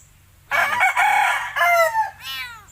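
A rooster recovering from botulism crows once nearby, a loud, drawn-out call that breaks and trails off, with no other sounds around it.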